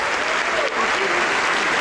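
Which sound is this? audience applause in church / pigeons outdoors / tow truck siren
audience applause in church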